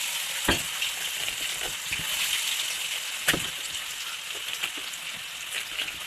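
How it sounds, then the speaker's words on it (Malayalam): Fish frying nearby in oil gives a steady crackling sizzle, with a few sharper pops standing out along the way. "അപ്പുറത്ത് നിന്ന് മീൻ വറുക്കുന്നുണ്ട്."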